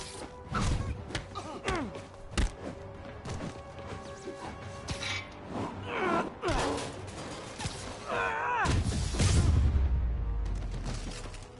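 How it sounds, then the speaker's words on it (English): Gunfire in a first-person shooter firefight, with a burst of sharp cracks and thuds scattered over several seconds, then a loud sustained blast toward the end; voices call out amid the shooting. "Open fire!"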